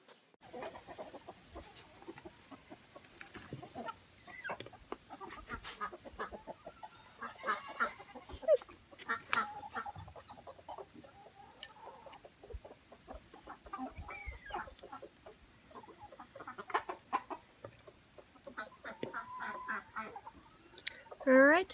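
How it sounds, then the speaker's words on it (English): Chickens cluck and chatter steadily alongside ducks at play in a farmyard, a busy, fairly quiet flock with scattered calls and brief louder squawks near the end. "you got to see more of my chickens and the ducks at play"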